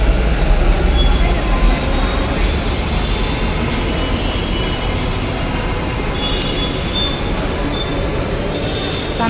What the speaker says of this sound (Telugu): Bun first metro train journey friends.